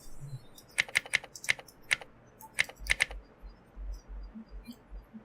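Someone types on a computer keyboard to search the AWS console: a quick run of about a dozen crisp, close key clicks, then a pause. Faint background hum, no talking.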